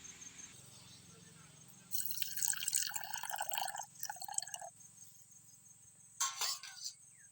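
Rice being washed in water for a toy-doll picnic cooking setup, with trickling, splashing bursts of water near the microphone amid a faint steady background hum.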